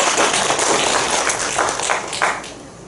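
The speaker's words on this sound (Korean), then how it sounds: "박수 한번 쳐줍시다." Applause from a church congregation during a Sunday service, a dense steady patter of clapping hands filling the space from start to finish at fairly even loudness.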